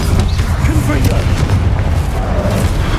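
Booming Confringo explosive spell blasts in Hogwarts Legacy on PS5, a dense low rumble of repeated impacts lasting throughout, loud and close amid spell-casting combat.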